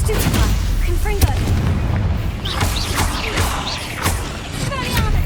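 Stupefy and Confringo spells cast in Hogwarts Legacy combat, a run of booming impacts and whacks with whooshing casts over a continuous low rumble, with a voice shouting spell names amid the fight.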